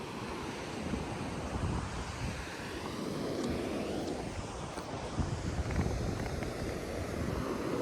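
Sea waves wash onto Diveagar beach on a morning at high tide, a faint steady roar of surf mixed with wind buffeting the microphone, with no talk.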